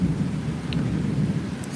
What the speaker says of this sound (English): The rain smells so good.